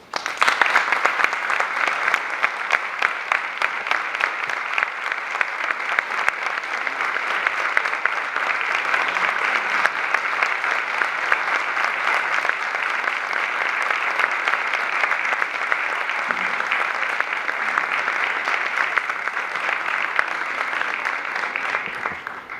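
Sustained applause from an audience at a book presentation, dense and even clapping that continues at steady loudness throughout with no pauses.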